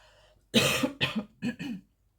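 One person coughs several times in quick succession, a harsh burst followed by three shorter coughs, close by and then quiet.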